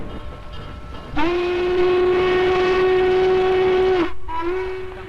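A Norfolk Southern steam locomotive whistle blows one long, steady, loud blast, breaks off briefly and resumes, over a background of rumbling train noise.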